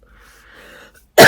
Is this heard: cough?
yes